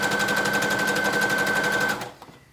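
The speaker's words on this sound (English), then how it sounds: "Then we're gonna sew." A sewing machine stitches a knit dress at a long stitch length, a steady fast mechanical whir with a high whine running close and loud for about two seconds before stopping abruptly.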